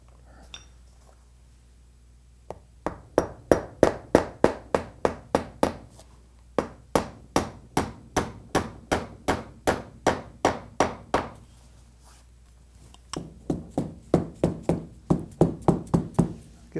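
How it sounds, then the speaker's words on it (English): A dead blow hammer strikes a wooden sofa frame during upholstery in quick runs of steady, evenly spaced knocks, pausing briefly between bursts; close and fairly loud, with no talking. "Get that all seated in nicely with a dead blow hammer."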